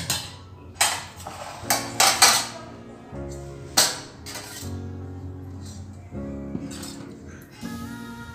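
Dishes, pots and cutlery clink and clatter at close range while jeera rice is served during a Saraswati Puja meal, with a few sharp knocks and scrapes among a steady busy kitchen hum.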